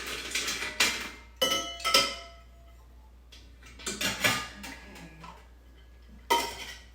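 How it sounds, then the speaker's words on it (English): Ice cubes dropped into a cocktail shaker for a fancy whiskey martini-style drink, heard as several clattering, clinking bursts of cubes hitting metal and each other, separated by short quiet gaps. "I'm going to top that off with some ice"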